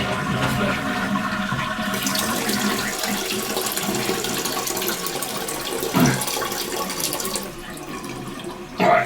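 Water rushes from a house water line with low cold flow, a loud continuous hiss and gush that holds steady, briefly surges, then drops off near the end as the flow is cut.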